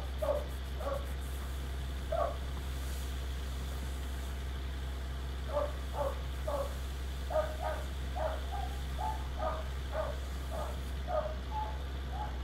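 A dog in the video game Farming Simulator 19 barks repeatedly in short clusters, moderately distant, over a constant low engine idle drone.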